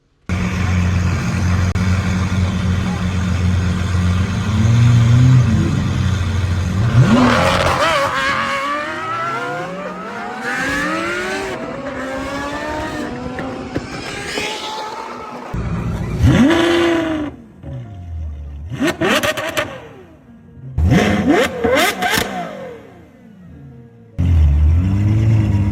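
A Ferrari sports car in Las Vegas revs hard and accelerates several times, its rising engine pitch sweeping up loudly and close, separated by short pauses and quieter rumbling.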